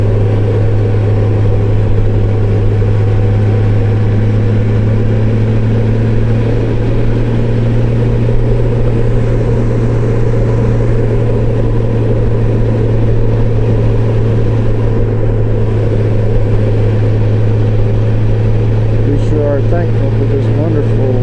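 Motorcycle ride along a scenic loop road near Fort Davis, Texas, with a steady loud engine drone and wind rumble throughout, while a rider talks over it.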